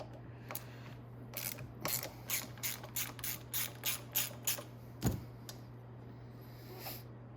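An 8mm ratchet loosens a bolt on a Venom Grizzly 125cc motorcycle's brake perch, giving a quiet series of about a dozen quick, close clicks, then a single sharper click.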